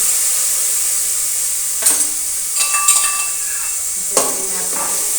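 Chutney dropped into hot oil already crackling with mustard seeds, cumin and curry leaves gives a steady broad sizzle, broken by a few sharp bursts and clinks of a spoon against the pan.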